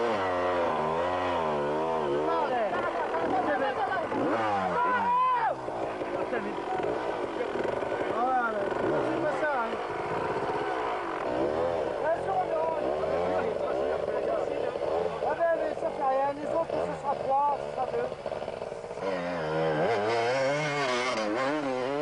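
A Honda enduro motorcycle climbs a steep hill at a 1998 hill-climb event, its engine revving and wailing in repeated rising and falling sweeps under a commentator's continuous talk.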